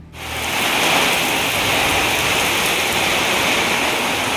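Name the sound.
heavy rain falling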